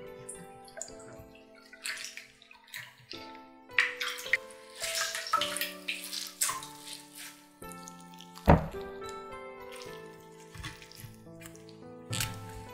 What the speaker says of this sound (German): Wir fangen mit dem selbstgemachten Sauerkraut an. Kurz im Wasser spülen.